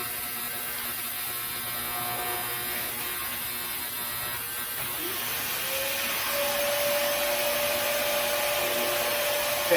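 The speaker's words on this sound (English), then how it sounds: "so we've got the vacuum on" A workshop vacuum runs at a steady, loud roar throughout, with a faint whine that shifts slightly in pitch near the end. No voices are heard.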